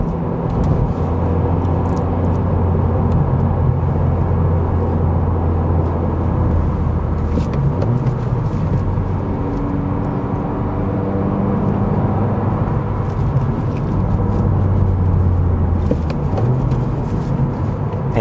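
A Honda Civic Si sedan driving in rush-hour traffic in Massachusetts, heard from the cabin as a constant low engine drone and road rumble that shifts slightly in pitch, with no speech.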